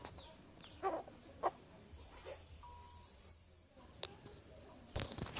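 A jungle fowl (ayam hutan) or decoy rooster gives a few short, sharp calls over faint outdoor background noise, with brief bursts spaced across the recording.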